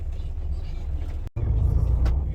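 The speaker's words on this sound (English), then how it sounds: "Now on the bus to the center." Interior of a city bus in Zagreb, Croatia, running from the airport toward the center: a steady, loud low engine and road rumble fills the cabin, broken by one very brief dropout before the drone resumes.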